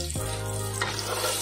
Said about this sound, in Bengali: আলুটা ভাজার সময় মিডিয়াম ফ্লেমে কিন্তু ভাজবো